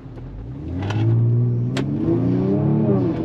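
A Kia Stinger GT accelerates hard from inside the cabin, its engine note climbing into a loud, rising roar with a brief shift partway through.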